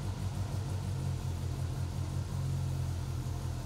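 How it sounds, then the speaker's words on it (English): A Polaris RZR Pro R side-by-side engine idles with a steady low rumble that holds even and unbroken from start to finish, close by and with no talking. "Start the engine"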